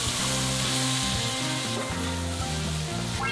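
Rice wine hits a hot wok of oil, ketchup and sugar and sizzles loudly and continuously, a close, hissing fry that runs throughout with background music playing underneath.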